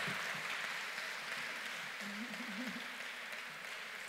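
Audience applause at a parish anniversary panel, a sustained wash of clapping from a hall crowd, steady and fairly faint, with a brief faint tonal murmur partway through.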